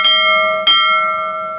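A bright, ringing bell aboard a cruise ship strikes twice in close succession, each tone clear and loud with a sustained shimmering decay and no talk over it.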